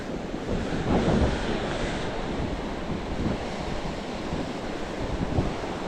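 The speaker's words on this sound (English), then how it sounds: "these waves are real rough" Rough surf breaking on a Florida saltwater shore while strong wind buffets the microphone, a steady loud roar with surging wave swells and no talk.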